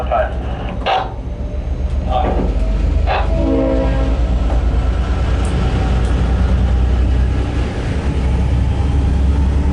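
A Warrnambool passenger train departs a station, its horn sounding in several short bursts over a loud, steady rumble of rolling wheels and engine.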